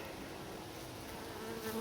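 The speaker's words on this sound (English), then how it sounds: "A lot more bees" A constant low hum of many honey bees buzzing close by at a nuc hive, dense and steady, with a slightly louder drone rising near the end.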